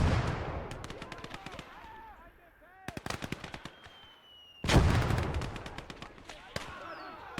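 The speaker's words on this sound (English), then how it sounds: "I'm pushing these guys with the MG and a flamer" Machine gun and flamethrower fire in the WWII strategy game Call to Arms: Gates of Hell Ostfront, during a 1v1 match. Rapid crackling bursts of automatic gunfire come in clusters, with a louder, denser burst of fire near the end.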